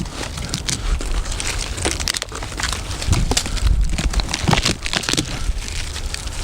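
Dry kindling is gathered by hand on a forest floor after long rain, with close, dense crackling, snapping and crunching of twigs and brittle plant debris in rapid, irregular bursts.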